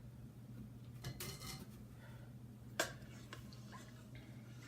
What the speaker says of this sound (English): you're just going to stir this until the honey is mixed into your warm elderberry syrup